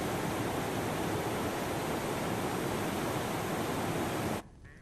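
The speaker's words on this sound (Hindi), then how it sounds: "शारदा नदी की ये तस्वीर, जहां पर लहरों को आप देख रहे हैं कि ऐसा लगता है मानो कि गुस्से में ये लहरें तेजी से बढ़ रही हैं आगे" The Sharda river rushes and surges with waves after heavy rain in the Uttarakhand region. The roar is dense and constant, with broadband noise, and it cuts off abruptly near the end into quiet.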